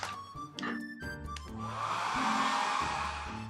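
Hair dryer drying a watercolor cat painting, starting and stopping a few times with uneven bursts before settling into a steady, loud whooshing hum.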